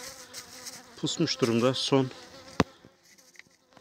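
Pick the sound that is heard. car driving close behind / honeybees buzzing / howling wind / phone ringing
honeybees buzzing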